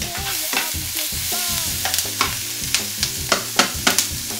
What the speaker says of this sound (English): you can see the juices coming out of the chorizo now as that's cooking